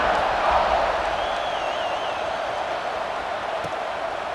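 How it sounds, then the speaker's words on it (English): Stadium crowd roaring in EA Sports College Football 26, a steady, broad wash of cheering and noise from a big audience, with one brief whistle-like call rising above it. "you think this crowd's going to get loud when their defense comes on the field?"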